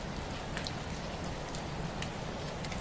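Steady rain falls outside a Victorian tea room, a dense, even hiss with scattered close drops pattering on surfaces, constant and unbroken throughout.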